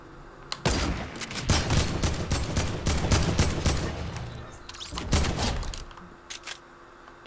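Rapid bursts of gunfire in the video game Fortnite, with dense clusters of close, sharp shots, a pause, another short burst, then a few scattered single shots as it tails off.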